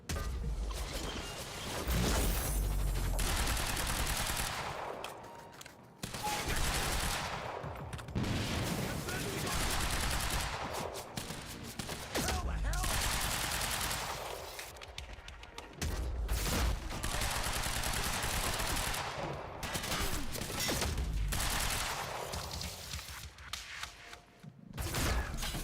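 Sustained gunfire in the shooter game Quantum Break, including sniper shots, rattles on in loud dense bursts with brief gaps, mixed with whooshes and someone talking over it.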